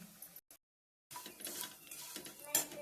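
Chivda ingredients being stirred in a pan: scraping and clinking of a spatula against metal with a light sizzle, in short irregular bursts broken by a brief silence, fairly quiet.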